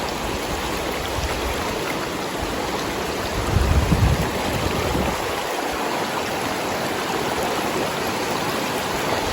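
Continuous rushing water flows steadily like a nearby river, loud and unbroken, with a brief low rumble partway through, in rain at a nature park.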